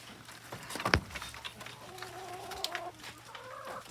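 Chickens clucking inside a walk-in backyard coop built from pallets, Isa Browns among them, soft repeated clucks and a drawn-out tonal call close by, with a sharp knock near the start and a low steady hum underneath.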